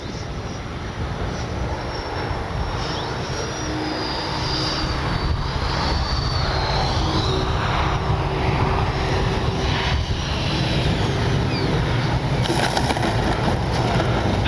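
A FlyFans L-39 64mm ducted-fan RC jet flies overhead, a continuous loud rushing whine that shifts in pitch as it passes, with outdoor wind noise and no speech.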